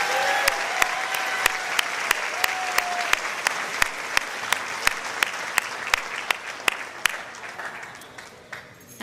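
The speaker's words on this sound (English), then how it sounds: "please join me in another round of applause for all of this year's Teacher of the Year winners." A crowd at a Teacher of the Year awards event claps in steady sustained applause that gradually fades, with a few sharp clicks standing out above it.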